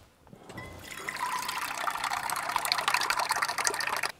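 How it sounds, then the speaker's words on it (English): Water is poured to refill a pet's drinking bowl, a steady close splashing trickle that starts after a brief quiet and keeps going for several seconds before stopping abruptly. "Oh, you're out of water, Fred."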